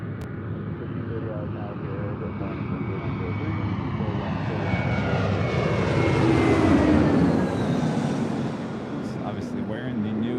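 A JetBlue Airbus A321 jet in its updated livery at LAX, its engine roar swelling to a peak about two-thirds through and then easing off, heard mid-distance against constant airport noise.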